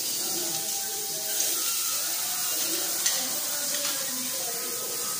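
Garlic sautéing in a pan for tofu with sweet sauce, a constant bright hiss and sizzle with faint bubbling and a few small pops, steady and close throughout.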